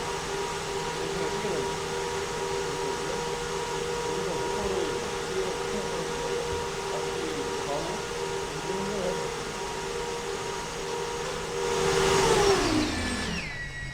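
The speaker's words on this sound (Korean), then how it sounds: "이제 천천히 모터를 올려보겠습니다" Small DC motor fan on an Arduino-built hovercraft spins up, a steady whirring drone under ongoing talk that rises in pitch and grows louder toward the end as the motor is throttled up, inflating the skirt.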